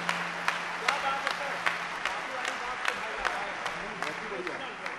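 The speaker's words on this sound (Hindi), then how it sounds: "दोनों हाथ उठाकर जोरदार तालियों से आप उसका स्वागत करें।" Audience at a Hindi comic poetry gathering (hasya kavi sammelan) claps to welcome a poet, a moderate, fairly distant wash of applause with scattered sharper claps standing out through the five seconds.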